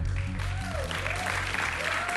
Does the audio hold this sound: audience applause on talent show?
yes